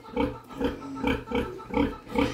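Sows on a pig farm grunting close by in a steady rhythm, about six deep, regular grunts in a little over two seconds, with no talk over them.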